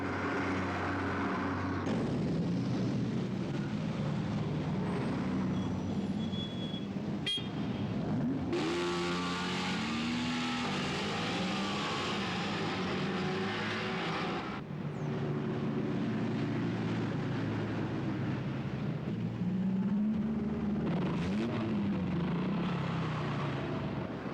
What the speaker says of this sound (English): traffic, the dominant source of noise in all towns